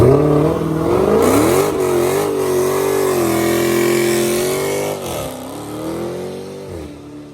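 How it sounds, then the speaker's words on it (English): A Dodge Hellcat doing a burnout, its engine revving hard and holding a loud, sustained high-rpm roar with brief dips, close and dominant, fading slightly toward the end. "I'll do a little burnout for you real quick."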